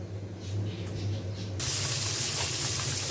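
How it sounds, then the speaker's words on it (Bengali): Whole fish coated in turmeric, chili and salt fry in hot oil, giving a steady hissing sizzle that swells louder halfway through and holds, with a faint low hum beneath and no voices. "ভেজে নিচ্ছি মাছগুলো"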